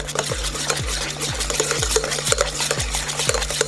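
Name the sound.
stirring melted butter into hollandaise sauce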